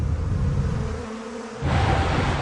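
A dense swarm of insects buzzes loudly and steadily up close, dipping briefly in the middle and then swelling back, with no talk over it.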